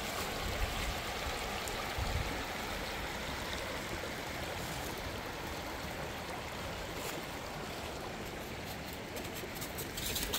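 A mountain stream flows in a steady broadband rush of water, continuous and fairly faint, with no voices over it.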